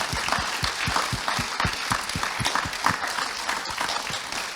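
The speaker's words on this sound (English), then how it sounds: "could you give our panel, who are a grand panel, a round of applause?" Audience applause for a panel at a 2022 EW symposium: steady dense clapping from a crowd, sustained and fairly loud for the whole stretch, with individual claps standing out up close.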